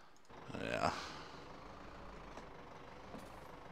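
A truck in Farming Simulator 17 brakes to a stop, its engine note swelling briefly before settling into a low, steady idle hum, with a person talking over it.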